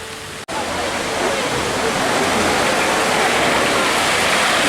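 Rushing water from a log flume ride at Europa Park, a loud steady broadband splash and roar filling the whole span after a brief cut near the start, with no clear talk over it.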